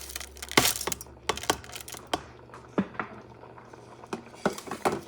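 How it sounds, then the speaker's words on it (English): Rice pours into a pot of hot water for a Puerto Rican rice dish, a close rattling patter of grains with scattered sharp ticks and taps against the pot, no talking. "Add the rice."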